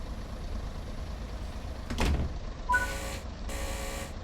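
Train doors locking in Train Sim World 5: a dull thump followed by two short bursts of hissing mechanical noise as the doors seal, heard close over a steady low cab rumble.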